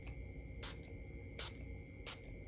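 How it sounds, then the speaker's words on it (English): Makeup setting spray misted onto a face in three short, separate hissing bursts, close and fairly soft against a quiet room. "Okay, now I'm just gonna go back in with the setting spray."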